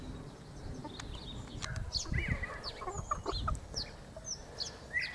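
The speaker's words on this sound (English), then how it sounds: "There's a whole load of the milfleur Pekins there, the ones that I've hatched off myself, bred myself." Millefleur Pekin bantam chickens, home-bred hens, cluck and chatter in irregular overlapping calls against a steady farmyard background, fairly close and moderately loud.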